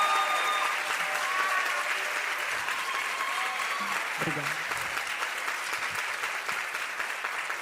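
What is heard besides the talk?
audience applause at a conference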